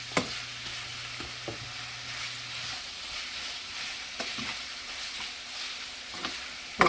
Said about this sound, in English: take that shrimp, mix that with that